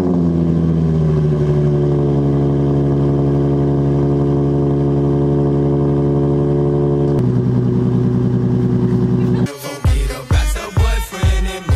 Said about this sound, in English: Final test to see if the car squeals.